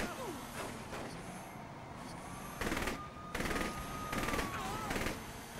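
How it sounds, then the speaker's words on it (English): Gunfire in Saints Row The Third, with bursts of shots popping repeatedly over a constant dense game soundscape of engines and street noise, with some voice chatter underneath. "We're shooting back."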